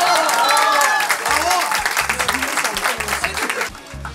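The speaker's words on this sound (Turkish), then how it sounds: "Büyük bir alkış istiyorum buraya." An audience at a quiz night bursts into applause, dense clapping that gradually thins out with voices mixed in over a few seconds.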